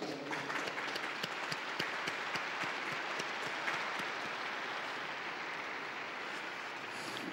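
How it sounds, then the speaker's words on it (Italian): A crowd applauds steadily and at length for a newly beatified woman at the Pope's Angelus, a dense wash of clapping heard from a distance in a large reverberant space. "Un applauso alla nuova beata."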